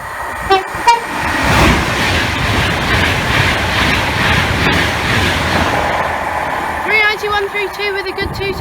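A Class 390 passenger train heading to London Euston roars past on the West Coast Main Line at Cheddington, kicking up dust, then sounds a loud, clear two-tone horn near the end, with voices talking over the passing rumble.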